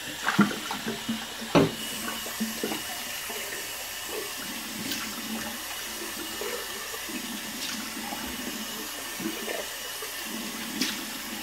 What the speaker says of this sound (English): Cold water rinse real fast.